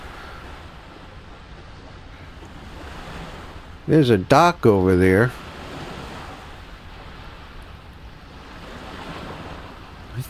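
Calm ocean surf rolling steadily in Microsoft Flight Simulator on an Antarctic expedition, a continuous soft wash with wind, broken midway by a brief burst of someone talking.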